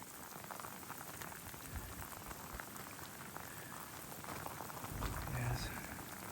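Steady rain pattering on surfaces at the volcanic eruption site in Iceland, a dense continuous hiss of drops that swells slightly louder near the end, with no voices.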